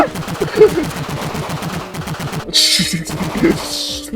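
Rapid automatic gunfire from the video game Landfall Archives, a steady stream of close, loud shots that breaks into heavier bursts near the end.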